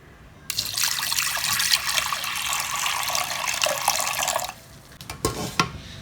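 Water pours steadily into a metal pressure cooker for about four seconds, then stops, followed by a few faint clinks and drips.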